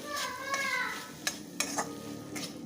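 A spoon stirs crushed peanut powder into a dry stir-fry of bean pods in a pan, with soft sizzling under a few sharp scraping and clinking strikes against the metal.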